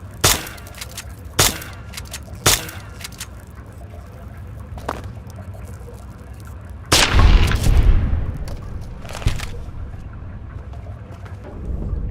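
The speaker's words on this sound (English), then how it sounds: "Think you can take care of that with your BB gun? Just aim and shoot." A BB gun fires at a radroach in a video game: a few sharp, separate pops early on, then a louder, longer burst of noise midway, with no talking.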